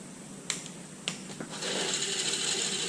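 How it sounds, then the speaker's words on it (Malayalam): A 200 amp MIG welding machine is switched on: a few sharp clicks, then a steady electrical hiss and hum that starts about halfway through and continues at an even level. "ആർക്കിൻ്റെ ഒരു 200 ആംപിയർ ഉള്ള മെഷീനാണ്. അപ്പോൾ ഞാനിതിൽ മെഷീൻ ഓണാക്കി"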